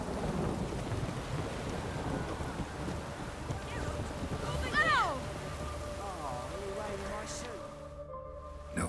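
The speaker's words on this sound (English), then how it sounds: "No use doing any work in this rain." Steady rain with low rolling thunder in The Witcher 3: Wild Hunt, voices talking over it, and a brief bright tone near the end before the sound drops out.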